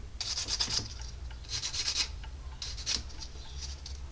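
Excess weld being filed or scraped off the top face of a metal ring, making a series of faint, rhythmic rasping strokes with short pauses between them, with no talking.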